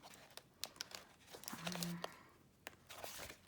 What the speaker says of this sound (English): It's a really nice paper. It's noisy though, sorry. And it's got lots of gold foil